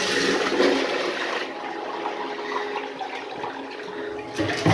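A miniature 1989 Kohler Highcliff toilet flushes in a close, continuous rush of water that gurgles as it tries to siphon, then tails off near the end.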